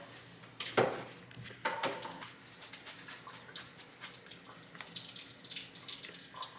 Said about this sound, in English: So we're going to drain the noodles